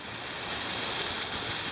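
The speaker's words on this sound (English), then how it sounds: "The waterfall." A mountain waterfall near a brook on a steep Adirondack hiking trail gives a constant broadband rush, steady and fairly close, with no voices.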